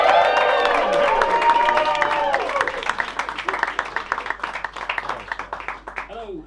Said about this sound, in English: Let's have a big round of applause as you welcome to the stage, John Dunn.